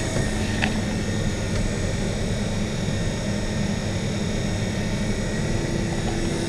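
Combine harvester engine during a rapeseed harvest, a loud, steady mechanical roar with a constant drone that holds at high level throughout, close by and without talk.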